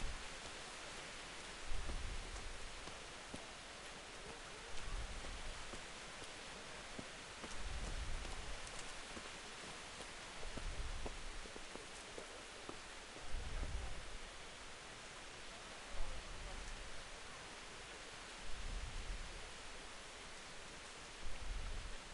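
Steady rain falls throughout a medieval town in Kingdom Come: Deliverance, a dense, even hiss of drops on surfaces with periodic low thumping swells, no voices present.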